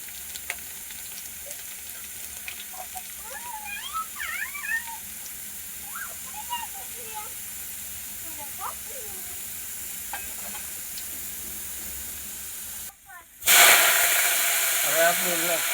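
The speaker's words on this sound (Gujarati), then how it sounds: "હવે આપણું તેલ આવી ગયું છે ને એમાં લસણ નાખી દીધું છે આપણે" Garlic fries in hot oil with a quiet, continuous sizzle under faint, warbling voice-like chirps, then a sudden, much louder burst of hissing near the end.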